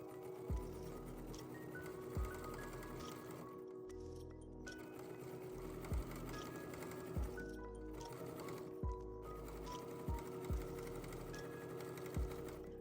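Sewing machine running a quarter-inch seam on a holiday stocking, a steady close mechanical whir with regular needle thumps, briefly pausing and restarting.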